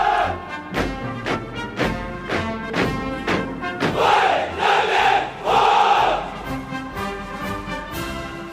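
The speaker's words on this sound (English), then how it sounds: "That's the sound of Chinese troops saluting President Xi Jinping" Massed Chinese troops at a Beijing military parade shout a salute in unison, a loud rhythmic chant of repeated sharp bursts from a large formation, echoing across an open square with thumping beats between calls.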